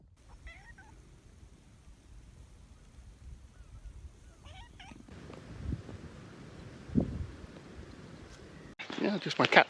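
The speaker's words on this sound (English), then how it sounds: "just my cats out following me around sometimes. So they walk down here meowing their heads off." Cats meowing while following someone on an outdoor walk, a few short meows near the start and again midway, then bursts of wind and handling noise toward the end.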